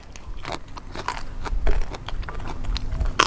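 Close, crisp bites and chewing of crunchy cow water lily flowers eaten with a spicy dipping sauce, with repeated crackling crunches in an uneven rhythm and no talking.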